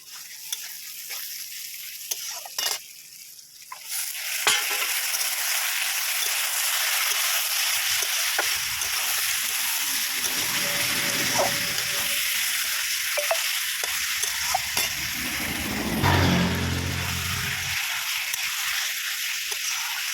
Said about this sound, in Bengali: আগে চিকেনটা একটু ভেজে নিই